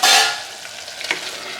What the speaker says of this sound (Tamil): இதெல்லாமே சேர்த்து நல்லா மிக்ஸ் பண்ணி விட்டுடலாங்க.